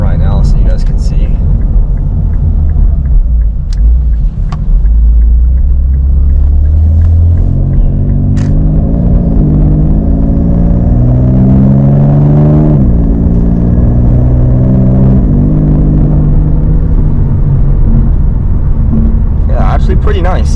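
Infiniti Q50 engine in sport mode, the automatic transmission downshifting as revs rise, a deep steady rumble with rising harmonic sweeps that settle after each shift; someone talks over it throughout.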